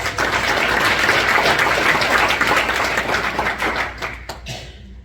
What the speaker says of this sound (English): Let's give them a applause